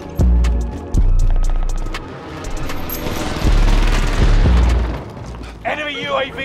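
Call of Duty Warzone gunfire: loud, close bursts of automatic shots with heavy booming impacts, rapid rattling volleys running for several seconds, with game voice chatter faintly underneath.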